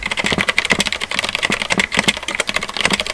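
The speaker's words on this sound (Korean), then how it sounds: "저는 소음은 크지 않지만 또각거리는 느낌은 잘 살아있는 갈축을 선택했습니다." Typing on a Mistel Barocco MD600 split ergonomic mechanical keyboard with Cherry brown switches, a dense run of close, crisp keystrokes with no talk.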